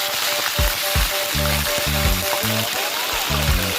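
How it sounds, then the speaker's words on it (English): Fish sizzles and crackles steadily in very hot oil in a Jamaican home kitchen, with bubbling pops that rise and fall. The frying is loud and close, with no voices over it. "so over here I'm hotting my oil to fry my fish"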